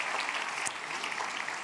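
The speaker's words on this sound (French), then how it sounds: "vous devez applaudir 4 fois plus fort" Applause from the audience at a closing plenary session of an entrepreneurship event, steady and moderately distant, running through the whole short stretch with no one speaking over it.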